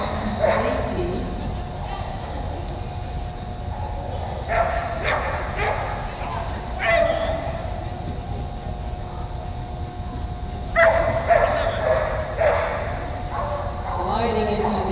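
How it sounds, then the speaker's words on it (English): Border collie barks and yips at intervals during an agility run at a US Open competition, the dog sounds mixed into steady arena noise and overlapping commentary. "Next on course is Sarah Booth and border collie Pete"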